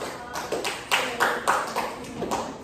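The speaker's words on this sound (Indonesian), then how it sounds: "Tepuk tangan dulu untuk kelompok 1" Classroom students give a few scattered claps, heard as a sparse, uneven series of separate sharp hand claps, fairly quiet, with no one talking.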